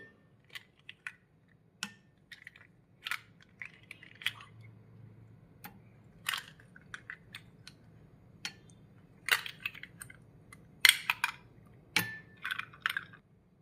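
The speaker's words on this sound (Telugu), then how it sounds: "నెక్స్ట్ మనం ఐస్ వేసుకుందాం. 2 క్యూబ్స్ వేసుకుందాం." Ice cubes dropped into homemade lemon juice give a scattered run of sharp clicks and clunks, some close and crisp, others softer, spread over several seconds with no talking.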